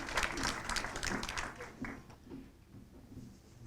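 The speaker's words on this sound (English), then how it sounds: "Bishop Verheyen, give him a big round of applause." Audience applauding a bishop invited to speak at a gathering, a burst of clapping that is strongest at first and tapers off over a few seconds, fairly quiet, with a voice and room noise as it fades.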